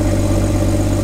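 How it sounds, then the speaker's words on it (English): A Porsche engine runs loudly at a steady idle during a vacuum check, a constant close drone with no revving. "The engine is on and it's pretty loud."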